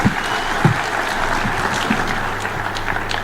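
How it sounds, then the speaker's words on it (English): Audience applause at the opening of the 4th Engineering Partnership Convention, a steady broadband patter of many hands filling the hall at moderate loudness, with a few sharper claps standing out near the start. "One more round of applause for His Excellency."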